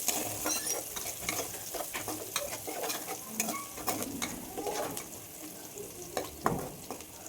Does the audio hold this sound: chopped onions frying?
yes